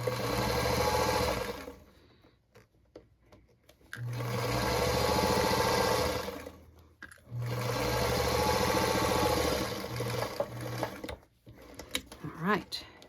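Sewing machine stitching a generous quarter-inch seam on linen, running in three sustained bursts with pauses between, close and fairly loud, a voice speaking briefly near the end.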